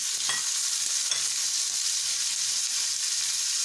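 Tomatoes, onions and leftover mushroom stems fry in a kadhai with a loud, continuous sizzle. A few soft scraping stirs stand out near the start.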